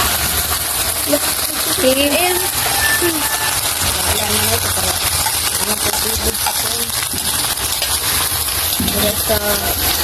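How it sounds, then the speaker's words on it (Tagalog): Water gushes steadily over chopped papaya to submerge it while preparing sautéed papaya with sardines. The continuous pouring and splashing stays loud throughout, with voices talking over it. "Lunod po natin yung ating papaya."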